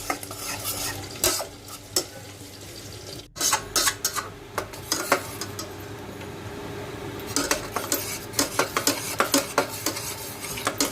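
Tomato paste being stirred in a cooking pot to cook off its water, with a steady bed of sizzling and repeated scraping clinks of a spoon against the pot throughout.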